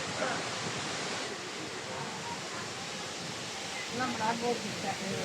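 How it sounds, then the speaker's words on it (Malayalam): Water gushing over the Malampuzha dam spillway with its shutters open, a steady broadband roar heard from close by, with a voice talking briefly over it near the end. "ഇവിടെ മലമ്പുഴ അണക്കെട്ടിലെ വെള്ളം ചാടുന്നതിൻ്റെ തൊട്ട് തന്നെയാണ്"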